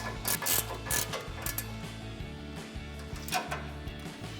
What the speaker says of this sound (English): grab our 18mm ratcheting wrench and tighten that down